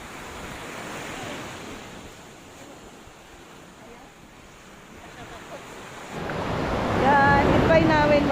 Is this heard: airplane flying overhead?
no